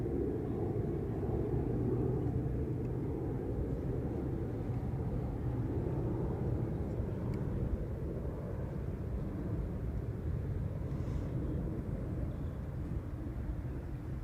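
Airplanes pass over an outdoor college tennis match, a broad low rumbling roar that holds steady and fairly loud throughout with no clear rally sounds above it.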